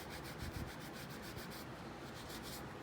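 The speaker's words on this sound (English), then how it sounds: "Using a little brasso right here to clean off a lot of the red primer." Steady close rubbing of a cloth with Brasso over a brass plaque from a 1941 Willys Jeep, stripping red primer in a continuous soft back-and-forth scrubbing with faint rhythmic strokes.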